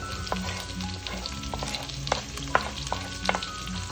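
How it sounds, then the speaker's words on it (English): Onions sautéing in a pan over medium-high heat for a mung bean soup, a steady close sizzle with scattered clinks and scrapes of stirring, no talk. "Let's put our temperature back to medium-high heat as we're gonna be sauteing now. Put our onions there."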